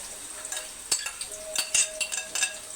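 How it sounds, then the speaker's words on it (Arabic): Chopped onions stirred with a utensil in hot oil for Saudi kabsa, giving a steady close sizzle broken by several sharp scraping and clinking stirs against the pan. "ونشوح بقى البصله بتاعتنا حبه كده"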